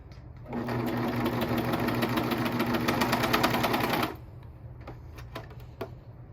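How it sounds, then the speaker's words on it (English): A sewing machine runs in one fast, even burst for about four seconds as it stitches through three layers of legging fabric, followed by a few faint clicks and handling sounds. "Making sure I'm not sewing through the other side."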